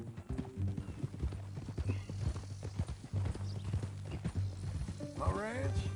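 Horse hooves clip-clop in Red Dead Redemption 2 as a horse walks in a steady rhythm, close and fairly loud, with a brief whinny near the end and a low musical drone underneath.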